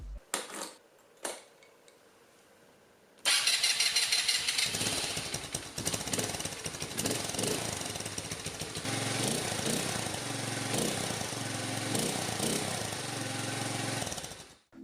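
A Laser TGB R9 scooter engine cranks with a few short bursts, then fires up and runs with a loud, rattling, rapid staccato idle that holds steady for the rest of the clip.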